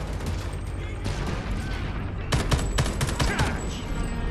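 Gunfire in the shooter game Homefront: The Revolution: loud, sustained bursts of automatic shots with sharper cracks near the end, all heard alone without any talking.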